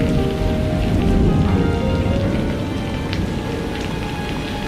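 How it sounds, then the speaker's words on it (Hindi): Cartoon rain effect of rain beginning to fall, a steady hiss of drops pattering on surfaces that continues evenly throughout, fairly loud and with no voices. "अरे अरे, बारिश शुरू हो गई, चलो चलो चलो।"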